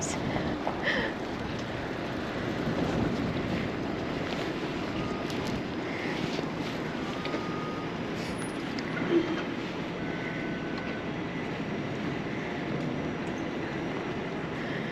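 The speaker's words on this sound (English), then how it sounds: "now we're riding in the headwind" Steady wind noise buffets the microphone while a Brompton folding bike rides into a headwind through a Toronto street, with a cape flapping behind the rider; constant broadband rush throughout, no talk.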